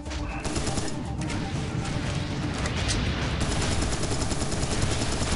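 Gunfire and explosions in the shooter game Serious Sam 3, a dense, loud barrage of rapid shots and booms running continuously, with no talking over it.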